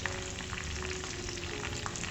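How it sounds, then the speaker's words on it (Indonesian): Sliced shallots, star anise and cinnamon frying in a Starfruit wok: a dense, continuous sizzle of hot oil at steady loudness, close and unbroken, with no voices. "bawang merah iris, bunga PK dan kayu manisnya aku goreng dulu ya"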